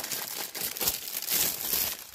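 Plastic packaging crinkling and rustling as a diamond painting storage box is unwrapped, a continuous close, bright crackle with uneven bursts.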